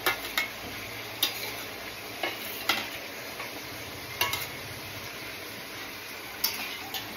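Meat fries with a paste of onion, garlic and chilli, a low steady sizzle under a spoon stirring the pan in irregular scraping knocks, close up with no voices.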